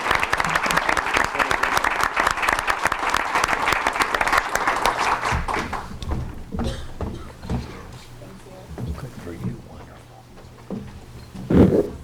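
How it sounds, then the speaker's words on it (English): Audience applause at a board of education meeting for a student named Victoria, dense and loud for about five seconds, then thinning into scattered claps and room noise. "So please help me in giving Victoria a round of applause."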